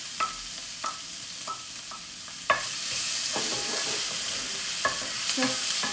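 Onion goes into a pan for a mushy pea curry, with sharp clacks of a spoon stirring, then a louder, steady sizzle swelling up as it fries, punctuated by occasional utensil knocks, with no voices over it.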